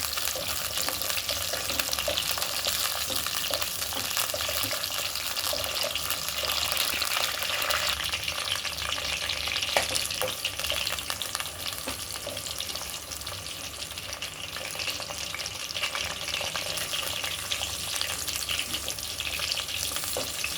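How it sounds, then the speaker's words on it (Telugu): Stuffed brinjals for a Gutti vankaya masala curry fry in a pan, giving a loud, dense, continuous sizzle and crackle that holds steady throughout, close up, with no talking. "ఇట్లా బాగా వేయించేసుకోవాలి."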